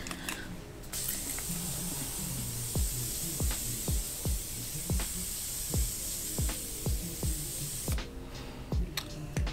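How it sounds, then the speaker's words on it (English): Morphe Continuous Setting Mist is sprayed onto a face in one long, steady, fine hiss lasting several seconds, heard close, with soft rhythmic beats in the background. "I'm gonna go ahead and spray my face."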